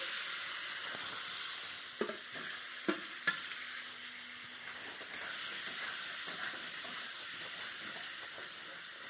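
Steady sizzling hiss of catfish frying in hot oil, with a few sharp clicks and faint clanks of utensils partway through.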